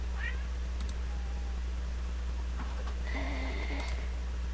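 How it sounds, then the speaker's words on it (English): Indy the cat meows faintly a couple of times, short rising cries set against a steady low hum and game background sounds. "He's meowing up a storm."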